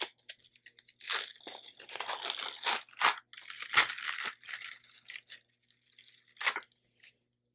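A sheet is peeled off by its corner from a backing in a zipper pouch craft, giving crackly, sticky tearing bursts in several close pulls with short pauses between, no talk.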